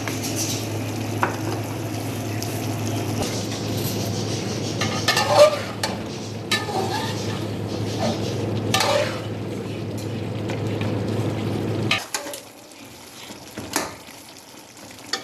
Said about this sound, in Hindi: हमने चमचे की मदद से टमाटरों को मैश कर लेना है अच्छी तरह